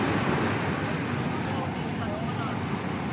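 Rough sea surf off Samar during the southwest monsoon gives a steady, dense roar of waves and wind, loud and continuous, with no voices.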